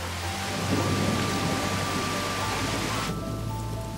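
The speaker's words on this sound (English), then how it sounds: "the hail quickly turns into a downpour" Heavy downpour of rain following hail at a medieval-style building site, with thunder rumbling low beneath a dense, steady wash of rainfall that continues without letup.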